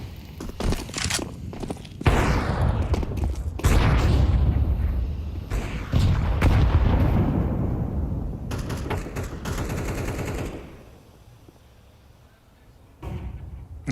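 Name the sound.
grenades exploding mid in Counter-Strike video game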